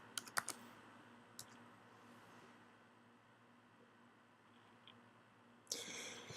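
A few quick bursts of keystrokes on a computer keyboard while a username and password are entered, separated by a long quiet stretch with faint background hiss, then a louder cluster of clicks at the end.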